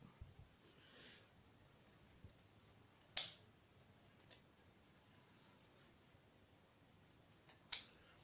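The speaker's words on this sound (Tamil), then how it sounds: "இது வந்து கொஞ்சம் மிச்சமாக இருக்கிற துளசியை இப்படி அழகாக கட் பண்ணி விட்டுடலாம்" Scissors trim leftover tulsi leaves on a garland of tuberose, roses and gold ribbon. A few sharp, isolated snips ring out close against near silence, with no talk.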